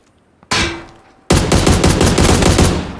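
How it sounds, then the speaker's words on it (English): AUG rifle fire in PUBG: one sharp shot rings out, then after a brief gap a sustained rapid burst of loud, close automatic fire. "Finish him off with the AUG."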